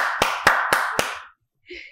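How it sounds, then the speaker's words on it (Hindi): Four sharp, evenly spaced hand claps ring out close and loud on a comedy talk show, each with a short echoing tail. Silence follows, then a faint brief sound. "ताली होनी चाहिए।"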